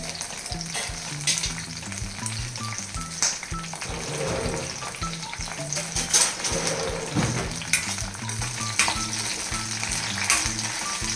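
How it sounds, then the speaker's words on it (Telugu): Green chillies fry in a kadai on a stove with a steady close sizzle, broken by scraping stirs and the clink of a metal spoon against the pan. "ఇప్పుడు కొద్దిగా మళ్ళీ స్టవ్ వెలిగించుకుని కళాయి పెట్టుకుని కొద్దిగా పచ్చిమిరపకాయలు వేపుకుందాం."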